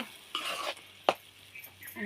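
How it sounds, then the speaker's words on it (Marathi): Coconut paste stirred in hot oil in a village kitchen pan gives a faint, soft sizzle broken by a couple of sharp spatula scrapes against the metal. "खोबऱ्याचा वाटणा आपण जरा तेलावरती परतून घेऊ"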